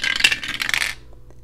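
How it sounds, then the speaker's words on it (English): Dice rolled onto a surface give a quick clattering rattle for about a second, followed by a couple of faint ticks as they settle. "I'm going to roll my dice."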